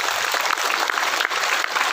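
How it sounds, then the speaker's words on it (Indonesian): Sustained applause from an audience at an Islamic sermon gathering in Tebing Tinggi, Tanjab Barat, Jambi: dense, steady clapping throughout, fairly loud and close, with no pause. "Tepuk tangan buat mereka."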